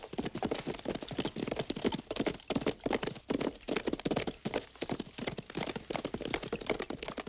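Horse hooves clip-clop in a quick, steady rhythm, close and fairly loud, continuing throughout without voices.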